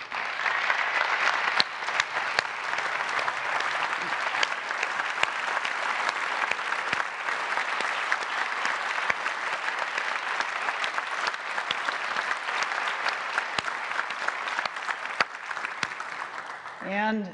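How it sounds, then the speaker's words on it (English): Audience applause fills the hall at Apple's iPad 2 keynote event in March 2011, a dense and sustained clapping that lasts over fifteen seconds before fading out, with a voice rising at the very end. "if you guys could just stand up so we could give you a round of applause"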